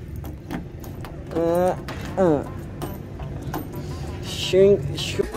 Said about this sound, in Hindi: ये है इसकी चाबी इसकी चाबी इसको लगाएंगे